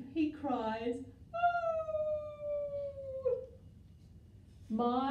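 A human voice imitates a sad dog crying, with a long, slightly falling whimpering whine held for about two seconds alone, bracketed by brief speech at children's story time.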